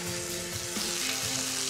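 Chicken, crispy garlic and broccoli stir-fry in a hot pan with a loud, continuous sizzle and crackle, plus the scrape and clatter of stirring throughout.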